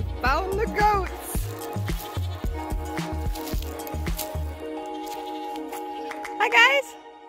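Goats on a farm bleat in wavering cries near the start and again near the end, close and fairly loud, mixed with squishy footsteps, thumps and a person talking.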